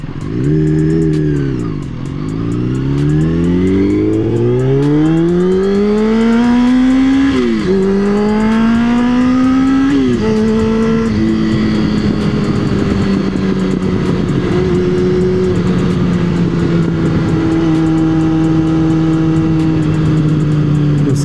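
A Yamaha R6 sport motorcycle engine revs loud and close, climbing in pitch through several rising pulls with brief drops between them, then holds a steady high idle-like drone for the rest, alone without talk.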